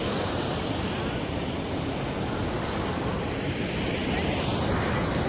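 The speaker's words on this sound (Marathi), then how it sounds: "पाण्याचा प्रवाह खूप जास्त आहे इकडे" A fast-flowing river surges in a dense, continuous roar of rushing water, near and constant, swelling slightly toward the end, with no speech heard.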